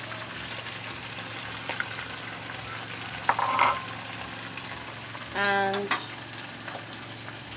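Fish frying in a pan of oil with crayfish going in for a vegetable sauce, giving a steady close sizzle with stirring and scraping, a brief clatter midway and a short voice near the end.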